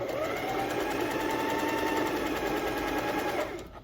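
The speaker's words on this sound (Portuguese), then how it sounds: "Vou pôr no 5, costurar um pouquinho no 5." A domestic sewing machine stitching knit fabric on a zigzag setting, a fast steady mechanical whir close by that runs for a few seconds and then winds down.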